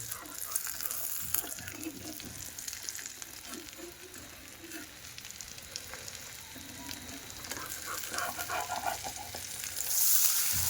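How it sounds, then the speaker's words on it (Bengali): An egg fries in mustard oil in a pan, giving a steady crackling sizzle with sharp spatters and pops throughout, close and fairly loud, the hiss briefly intensifying near the end. "তারপরে সরষের তেল দিয়ে ডিমটা ভাজতেছি"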